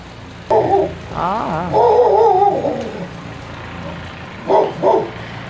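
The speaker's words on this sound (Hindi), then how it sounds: "यहाँ के कुत्ते बड़े अच्छे होते हैं।" Dogs at Kedarnath temple bark and yip in a few short bursts, with a longer whimpering, howling stretch in the middle, heard nearby over steady outdoor background noise.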